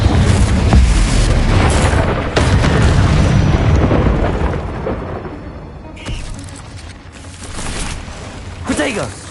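A Bombarda spell in Hogwarts Legacy lands with a heavy, loud boom and a long rumbling decay. Further softer blasts and crackles follow.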